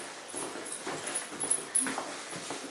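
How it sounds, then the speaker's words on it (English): A small dog whimpers and whines in short, soft bursts, fairly faint and close, over steady background hiss with a couple of sharper yelps near the middle. "It might be a little dog."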